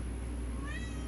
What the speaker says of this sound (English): If y'all heard her meow in the background, it's my one of my cats, Chantel.